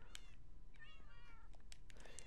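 Several cats meow in a cat cafe, with repeated short, high meows scattered over a low background hum.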